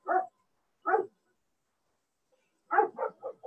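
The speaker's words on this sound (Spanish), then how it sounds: "Esas son mis perritas que ladran." Pet dogs barking nearby, two single barks spaced apart followed by a quick run of four barks, loud and clear against a quiet room with no talking.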